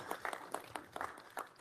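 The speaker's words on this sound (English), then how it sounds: "huge round of applause" Brief audience applause at an executive committee meeting, a few soft, spaced-out claps from a smallish crowd, fairly distant and faint.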